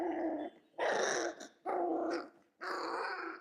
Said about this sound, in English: He just keeps growling.